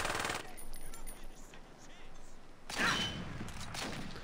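Bursts of rifle fire in the Saints Row video game, a short rattle at the start and a louder spell of shots later, mixed with game noise and a voice speaking.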